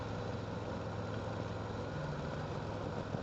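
A big motorcycle engine runs steadily on cruise control, a constant low rumble with wind roar, unchanging throughout and with no talking.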